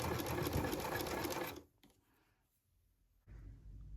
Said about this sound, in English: When you're sewing this stitch, you need to be just far enough away from the fold that the zigzag just catches the